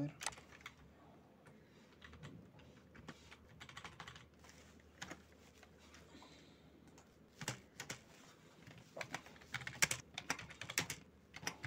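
Keys clatter on a computer keyboard while text is typed in Microsoft Word, the clicks coming in quick irregular bursts close by, quiet at first and busier toward the end.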